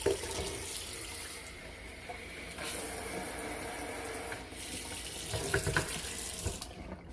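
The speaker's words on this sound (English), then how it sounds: "Water is on." Kitchen sink faucet running over a sink with a garbage disposal and granite countertops, a steady splashing stream that shifts in tone as the flow changes, close and alone without speech.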